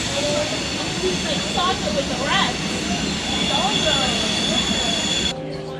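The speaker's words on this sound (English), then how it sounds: "There's a train going by." A train rumbles past nearby with steady broadband noise and squealing wheel tones, loud and continuous, with a person talking underneath.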